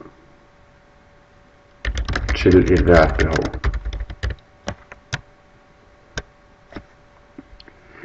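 Rapid clatter of someone typing on a computer keyboard, a dense run of keystrokes followed by scattered single taps, while someone speaks Danish over the first burst.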